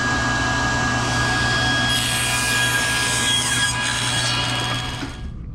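A table saw cuts wood for a drawer box with rabbet joints, a steady close whining hum with a rising scrape as the blade passes through the board, then trailing off at the end.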